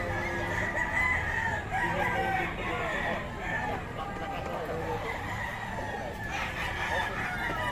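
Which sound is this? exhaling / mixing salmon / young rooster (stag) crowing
young rooster (stag) crowing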